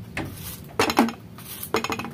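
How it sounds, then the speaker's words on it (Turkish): A knife chops hot peppers, cutting off the stem ends, in a home kitchen: a few sharp blade-on-board knocks land in small clusters, close and fairly loud, with no talking. "Hemen şöyle baş kısımlarını kesip doğruyoruz."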